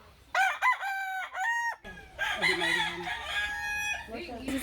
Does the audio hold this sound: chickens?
yes